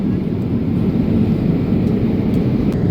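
Steady, loud low-pitched drone of an airliner cabin in flight, a continuous engine and air rumble with no pauses and no voices.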